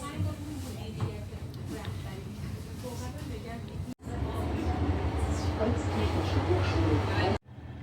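A metro train rumbles along during a ride, a steady low roar that cuts out briefly and returns louder, with people talking over it.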